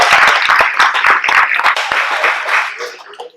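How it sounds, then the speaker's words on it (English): A crowd at a family scout pack meeting claps and cheers for the girls, a loud burst of dense clapping and voices that holds steady and then tapers off near the end. "Let's get a cheer for the girls."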